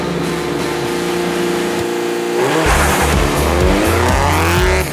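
Rally car on a short spectator special stage in Maniwaki during Rallye Perce Neige, engine revving hard and rising in pitch, with tires squealing and skidding as it accelerates through the stage, loud and close.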